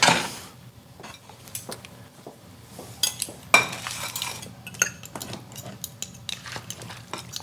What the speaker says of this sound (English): Got my spoon, got my fork.